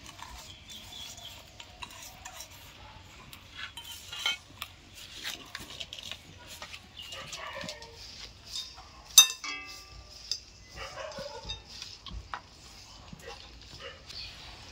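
Raw mango is mixed with sugar, kasundi, chilli and salt, giving quiet, irregular scraping, clinking and soft squelching of utensil against dish, with occasional sharper knocks and brief faint speech.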